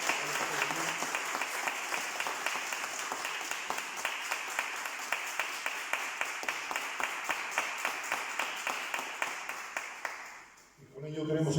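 A crowd applauds steadily for about ten seconds, with sharp claps standing out over a dense wash of hands, before the clapping fades out.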